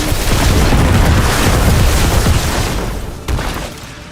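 Repeated artillery shrine explosions in Diablo 4 rumble as a dense, continuous barrage of loud booms, easing near the end with one last sharp blast.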